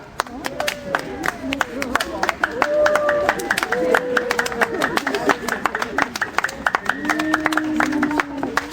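A Paris crowd applauding the mayor, Bertrand Delanoë, at a public rally: scattered clapping and cheering mixed with loud voices and whistles, a busy, bustling crowd noise throughout.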